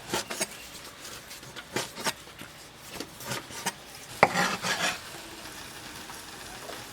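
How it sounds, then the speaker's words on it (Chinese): Kitchen knife slicing fatty pork into large thin slices on a board, a quick run of irregular close, crisp cuts and taps with brief pauses, no talk. "猪肉比较肥，切成大薄片。"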